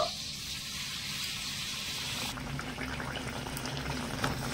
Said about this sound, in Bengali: আবার তেলের মধ্যে ছেড়ে দেব।